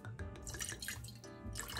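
Wine is poured into a Jamaican black fruit cake mixture, a short run of liquid splashing and dripping with a few gurgling bursts, close and moderately loud, no talk.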